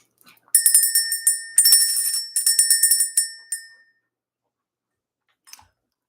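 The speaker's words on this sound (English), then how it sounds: "Let's ring this bell." A small hand bell rings in a quiet room for a spiritual energy clearing: a run of bright, shimmering strikes in quick bursts for about three seconds, then silence with one faint tap.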